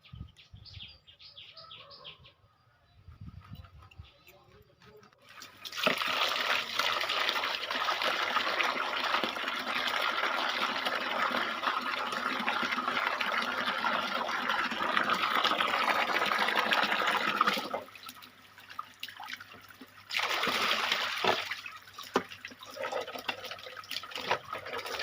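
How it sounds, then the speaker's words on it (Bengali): Cut fish being washed by hand in a pot of water in a village setting, sloshing and splashing water for about twelve seconds, then a pause and more brief splashing, with faint birdsong around. "মাছ কাটা হয়ে গেছে, মা এখন মাছটা ধুয়ে নেবে।"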